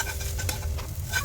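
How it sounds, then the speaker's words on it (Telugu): Mango pulihara rice being mixed and stirred in a vessel, a steady soft scraping and rustling texture throughout, close and continuous with no pauses. "ఇంకా బాగా కలుపుకోవాలన్నమాట"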